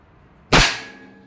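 A single sharp crack from a Crosman SNR 357 airgun revolver fired in single action with a flathead pellet, close and loud. The shot is followed by a short fading tail in an otherwise quiet moment.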